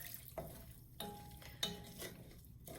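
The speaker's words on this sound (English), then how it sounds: "And you just have to keep stirring." A spoon stirs tomato soup base in a pot, scraping the bottom in several distinct strokes with soft scrapes and light clinks, over a faint background sizzle; close and fairly quiet, with no voices.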